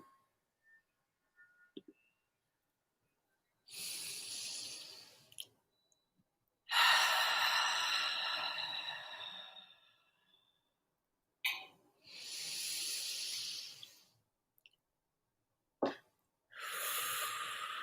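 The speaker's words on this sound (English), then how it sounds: "Let's start by taking 3 deep cleansing breaths." Three deep, slow breaths during a guided self-compassion meditation, each a long inhale and a longer, audible exhale, close to the microphone and separated by brief silences.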